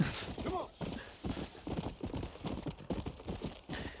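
Horse hooves clip-clop at a steady galloping rhythm in Red Dead Redemption: Undead Nightmare, close and continuous with occasional background voices and game ambience.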